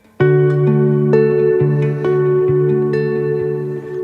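Ambient reverb pedal with its repeats knob at minimum, processing sustained clean guitar chords: a loud, steady wash of ringing notes that change every half second or so, with a short, tight reverb tail and no voices.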